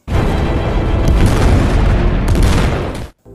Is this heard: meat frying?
no